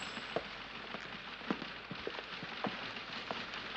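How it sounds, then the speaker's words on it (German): Light rain falls steadily, a soft even hiss with scattered faint drops pattering on surfaces, quiet and continuous with no voices. "Hat wieder zu regnen angefangen. Nicht heftig, aber es regnet."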